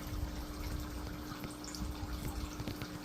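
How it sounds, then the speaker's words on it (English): Water pours steadily during a water change on a shrimp tank, a continuous close splashing wash with a faint pump-like hum underneath. "I'm doing a second water change."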